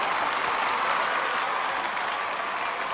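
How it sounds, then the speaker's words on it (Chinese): A studio audience at a televised talent show claps in sustained, dense applause, an even wash of many hands held at steady volume with no speech. "现场的掌声还是蛮多的"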